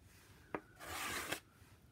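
Shaving cream being scraped off a card for art journal marbling, a short soft tap followed by a faint, close scraping rub lasting about half a second and ending in another light tap, with no talk.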